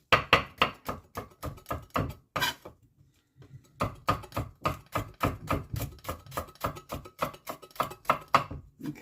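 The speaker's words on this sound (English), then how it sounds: "Cut a bit of garlic." A sharpened kitchen knife chops garlic cloves on a board, giving steady rapid knocks in quick runs with a short pause partway through, close and crisp.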